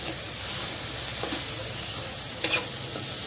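Okra with coarsely crushed peanuts stirred in a frying pan for a red chili bhindi dish, a continuous hissing sizzle with a few scraping stir sounds, close and steady, with no talking.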